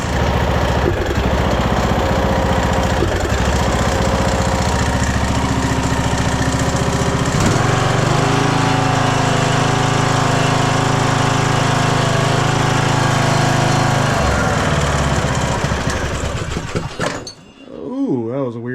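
A small tractor engine with a bad fuel hose leak chugs loudly and continuously with a rough, rapid knock, struggling to idle, then sputters and cuts out near the end with a clunk.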